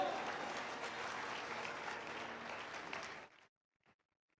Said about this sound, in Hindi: ताली बजाओ परमेश्वर के लिए।